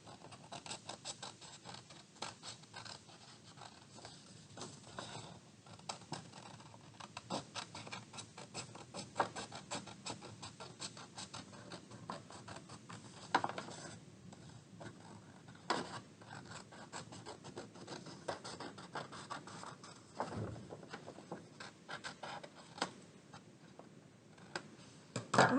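Scissors snip steadily around the outline of a paper sugar skull, a faint close run of small crisp cuts and rustles that continues unbroken for a long stretch with no voices.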